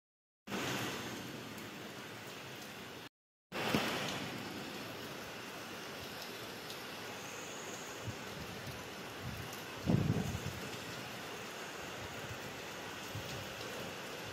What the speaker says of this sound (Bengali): তো দেখে বুঝতেই পারছো কি জোরে মুষলধারে বৃষ্টি হচ্ছে